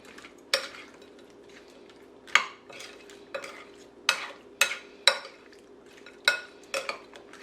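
Shrimp being mixed in a marinade in a bowl, with a series of sharp, irregular clinks and scrapes of utensil on dish over a faint steady background hum.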